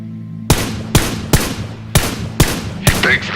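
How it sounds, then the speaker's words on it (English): Gunfire in the video game PUBG, six loud, sharp shots spaced roughly half a second apart, each with a quick ringing decay, over a low steady background hum. "He takes the shot, but the shots don't land."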